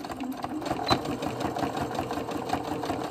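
An embroidery machine stitching fabric in the hoop for a quilted bowl cozy, a close, continuous rapid mechanical whirring and chatter of the needle with a slight bump partway through.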